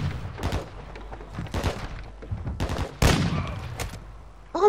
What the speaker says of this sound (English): I haven't missed yet with the sniper!